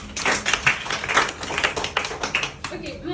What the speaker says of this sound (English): All of you clap for yourself.